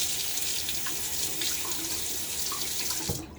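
Steady running water from a tap splashes continuously as a Gillette Sheraton razor is rinsed, close and moderately loud, cutting off abruptly at the end.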